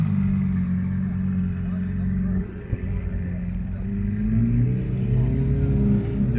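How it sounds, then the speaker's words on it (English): Deep, rumbling Ferrari Pista engine idling and gently revving nearby while parking at a cars and coffee meet, steady throughout, with a person talking over it. "then we got Mr. Cars and Coffee down there, parking up his Pista."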